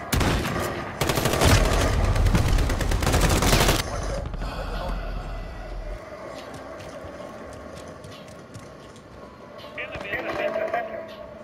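Rapid, loud gunfire from a Modern Warfare video game match, a dense burst of automatic shots in the opening seconds, then quieter scattered game sounds with occasional distant pops.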